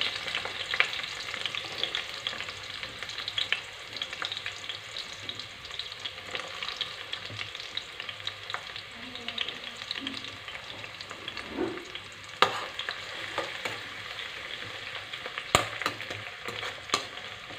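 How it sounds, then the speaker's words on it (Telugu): Onions and green chillies frying in a pan, a continuous soft sizzle with occasional stirring scrapes and a few sharp clicks, close and moderately quiet, no voices present. "ఈ ఆనియన్స్ కూడా బ్రౌన్స్ కలర్ వచ్చిందాక వేయించుకోవాలి."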